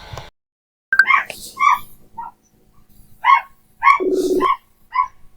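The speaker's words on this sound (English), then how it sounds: "somebody had a dog on the open patch of land behind my house." Dog barking on an open patch of land behind a house, heard through open French doors: a series of short, sharp barks and yips in irregular bursts, moderately close, with one longer whining bark near the end.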